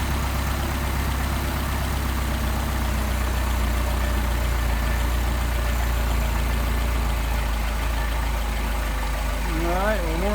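A Mercedes-Benz 190SL engine with Solex carburetors idles steadily while warming up, a low continuous rumble throughout, with faint background sounds over it.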